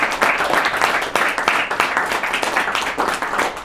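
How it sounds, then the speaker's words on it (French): Lively audience applause for a president at a French lecture gathering; brisk, dense clapping from a roomful of people, fairly close and loud, pulsing in slight waves across the whole stretch without any speech. "et on l'applaudit."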